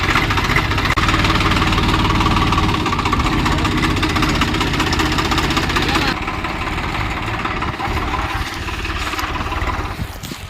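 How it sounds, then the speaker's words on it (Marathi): A tractor engine idles loudly and close with a steady chugging drone, its tone shifting slightly partway through, while people talk over it. "ट्रॅक्टर लावू आपण डबल"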